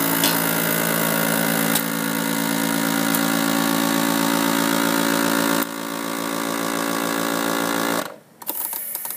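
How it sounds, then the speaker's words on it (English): A FoodSaver vacuum sealer suction pump runs as a steady, loud motor hum with a buzzing drone before cutting off abruptly near the end, followed by faint rustling. "I can hear the suction coming out of the food saver."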